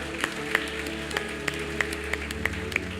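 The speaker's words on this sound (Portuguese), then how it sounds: "Vamos aplaudir o Senhor." A church congregation at a couples' gathering claps in a slow, even rhythm, about three claps a second, faint against a low background hum and with no voices over it.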